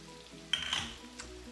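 Washed mushrooms go into a hot frying pan for chicken cutlets, a faint background sizzle swelling briefly as they land, with a soft clatter of pan and utensil, close and fairly quiet.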